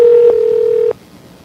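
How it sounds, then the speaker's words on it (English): A landline telephone ringing as a call is placed: one steady electronic ring tone with a brief break, then a second short burst, clear and close with no talking. "Like this one's ringing like 4 times."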